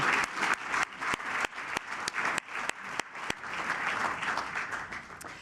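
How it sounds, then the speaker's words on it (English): An audience claps in a quick round of applause, with several sharp, distinct claps standing out close by over the steady patter of the crowd. "I do think we should offer a quick round of applause"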